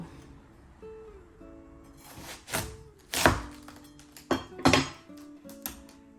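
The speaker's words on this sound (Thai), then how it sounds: "เดี๋ยวเราจะมาเฉาะดู" Knife chopping into an imported Australian watermelon, giving several loud, close thunks and cracks spaced over a few seconds, with a faint hum and light handling noise between strikes.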